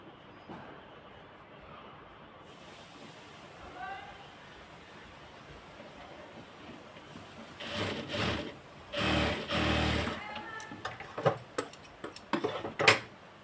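Sewing machine stitching a salwar, quiet at first, then several rapid clattering bursts of stitching with short pauses between them, growing denser toward the end.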